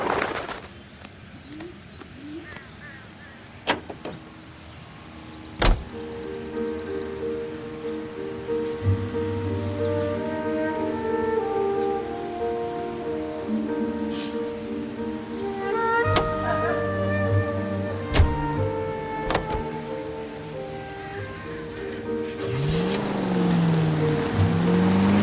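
A car engine drones through a driving sequence in the Xbox 360 game Homicide Desk, with sharp clicks and bangs and scattered tonal effects layered over the steady motor. No one speaks.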